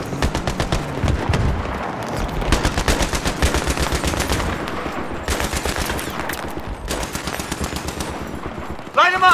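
Sustained machine-gun covering fire in Battlefield 3, loud rapid bursts with a few gaps, close and dense, with battlefield booms and shouted voices mixed in.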